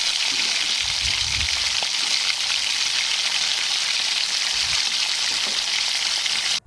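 Kerala-style unniyappam fry in hot oil with a close, steady hiss and crackle of sizzling. A few soft low knocks come from the pan, and no one talks.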